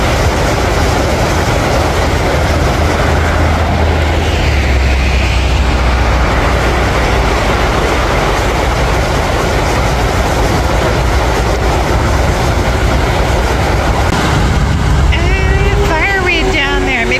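A passenger train in Alaska rumbles past steadily and loudly, a broad continuous roar of wheels on rails lasting the whole stretch, with a bird chirping near the end.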